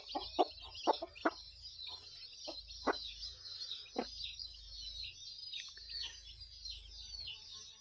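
A free-range village hen clucks in short, irregular bursts close by while her newly hatched chicks peep continuously in high, thin chirps around her.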